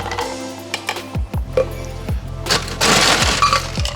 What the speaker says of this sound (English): just going to dump it straight into the balloon glass